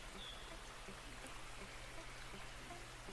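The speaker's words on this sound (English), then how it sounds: "listen to the water flowing down that creek we sometimes like to splash around in" Water flows down a creek in a steady, faint rushing babble with light trickling detail, continuous and unbroken, with no voices.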